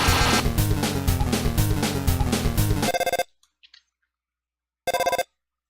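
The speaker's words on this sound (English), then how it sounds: "I got a phone call." A ringing phone in the video game Undertale, heard as two loud bursts of bright, tonal electronic trills after a busy passage of game music, with a short silent gap between the rings.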